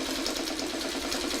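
A sewing machine stitches a quilt four-patch in a fast, continuous whirring rhythm, close and steady for the whole short stretch with no voices.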